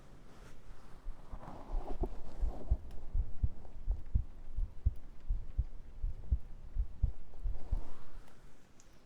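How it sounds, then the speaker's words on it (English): Amplified heartbeat on an ASMR stream, a loud, booming low thump repeating in a steady rhythm close to the microphone, with a breathy hum underneath and no talking. "The sound of the heartbeat just peaked on the mic."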